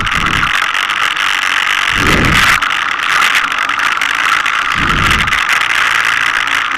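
An ATV quad engine descends a dirt trail near Mammoth Lakes, giving a loud steady drone with rattling and wind, and low engine swells rising at a few points.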